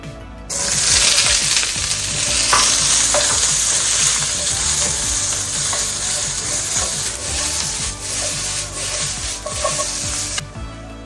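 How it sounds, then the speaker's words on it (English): Onion sautéing in oil in a wok over high heat, a loud continuous sizzle that starts abruptly, with spatula scrapes and metallic stirring clatter running through until it cuts off near the end. "we're going to soften the onion first"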